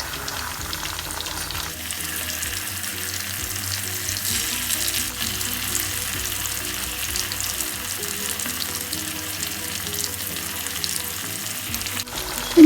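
Chicken pieces for kondattam frying in oil over a medium flame, a steady close sizzle with crackling that runs unbroken, no voices.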